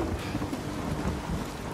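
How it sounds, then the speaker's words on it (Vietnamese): Heavy rain and thunder from the video game Uncharted 4 form a dense, loud, continuous wash of downpour with a deep rolling rumble throughout. "Cái hiệu ứng mưa diễn ra rất là đẹp, các bạn thấy không?"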